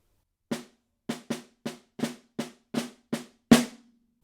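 Snare drum playing measure 7 of an etude: eight spaced unaccented flams and taps in steady rhythm, ending on a louder stroke that rings briefly, close and unaccompanied.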